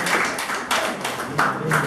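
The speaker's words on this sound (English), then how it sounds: "Oh, clap for the Lord Jesus." A church congregation claps for the Lord Jesus in a fast, steady rhythm of many hands, close and lively, with a voice briefly calling over it.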